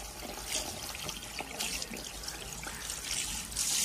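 Tap water running steadily while hair is washed at a barber's sink, a close, continuous trickling splash that swells in brief surges.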